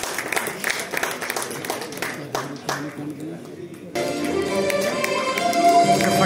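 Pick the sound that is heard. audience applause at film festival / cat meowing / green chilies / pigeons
audience applause at film festival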